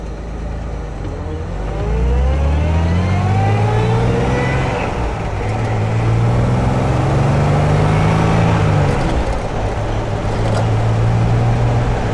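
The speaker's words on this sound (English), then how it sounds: "Engine, typical Healey straight six, very smooth, strong, torquey motor." A 1967 Austin-Healey 3000 with a straight-six engine accelerates on the road, its note rising in repeated sweeps through the gears, close and loud throughout with no talk.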